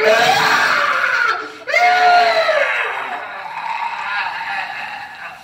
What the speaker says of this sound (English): everyone heard at the same time the most blood-curdling scream